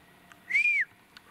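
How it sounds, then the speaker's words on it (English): A man whistles outdoors beside a remote road, one short, clear, slightly rising-then-falling note standing alone against a quiet background. "If you hear me whistle, it's because I heard something."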